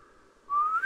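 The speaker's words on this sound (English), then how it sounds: "I can whistle. That's cool." A single short whistle from a video game character in the stealth game Wildfire, a faint tone that swells and rises in pitch over under a second.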